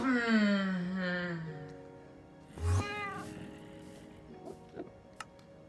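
Cat meowing in the Minecraft video game, a long drawn-out meow up front followed by a few shorter mews and faint ticks, fairly close and clear with no talking.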